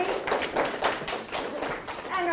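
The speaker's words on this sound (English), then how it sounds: "how about a big round of applause, not only for Kirsten, our speaker today" An audience at a university environmental speaker-series lecture claps for the speaker, with a steady patter of hand claps mixed with nearby talking.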